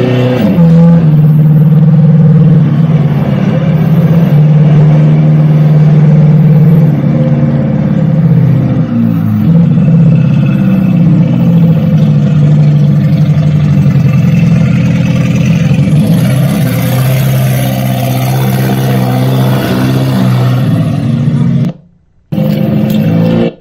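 Loud car engine rumbling close by on a street in Brighton, Colorado, sustained and droning, then easing off as the driver lets off the gas, with a brief dropout near the end.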